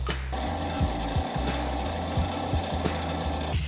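A belt grinder sands a knife blade to strip belt residue, giving a steady motor whine with a rhythmic, knocking pulse as the blade presses against the running belt.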